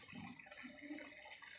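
Hot water poured into a dhaba-style chicken curry in a home kitchen, giving a soft, steady splashing and trickling of liquid that runs continuously at low volume with no talk over it.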